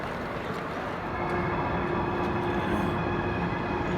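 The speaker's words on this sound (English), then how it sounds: "Here comes our train to Shanghai. Really slowing down into the station." A Chinese high-speed train, apparently a Hexie, slows as it pulls into Ningbo railway station's cavernous hall, giving a steady, loud, broad rumble and whoosh that swells slightly partway through, with no voices.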